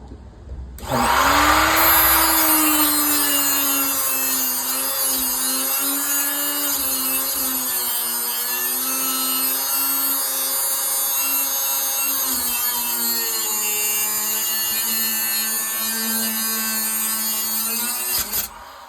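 A power saw cuts through the floor of a 1985 Squarebody truck, a steady, loud, high whine that holds for about sixteen seconds with slight shifts in pitch before winding down.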